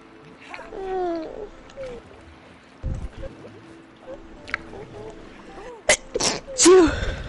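A sneeze during play of the video game It Takes Two, one short sharp burst heard over soft game sounds and background noise.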